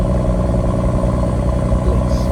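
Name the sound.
BMW M140i Competition engine cold start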